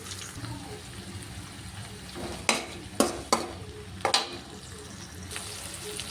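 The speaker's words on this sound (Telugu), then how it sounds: "ఆనియన్స్ కొద్దిగా వేగిన తర్వాత ఇందులో టమాటా ముక్కలు వేసుకోవాలి" Onions and tomato pieces fry in a pan with a steady low sizzle, broken by several sharp stirring scrapes in the middle of the clip. No voices.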